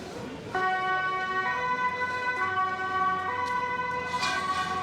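Police sirens wail in a street clash in Amsterdam, steady overlapping tones holding loud and close over traffic noise.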